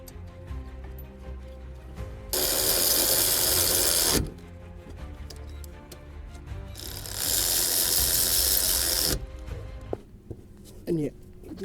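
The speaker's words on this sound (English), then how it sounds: "this possibly will be the best angle that you'll get in order to fully torque this bolt" A wrench torquing a brake caliper bolt on a BMW, broad steady ratcheting in two long bursts with mechanical clicks between them and talk around it.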